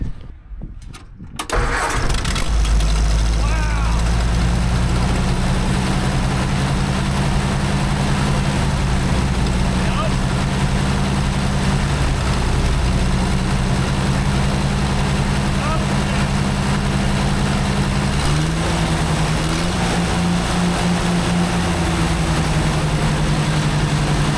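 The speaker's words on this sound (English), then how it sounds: "if this has really been just running on 2 cylinders, this chipper is gonna be even more of an animal" A 1970s John Deere wood chipper engine running on two cylinders cranks and catches after a brief silent start, then idles loud and close with a steady, throbbing low drone that shifts pitch slightly near the end.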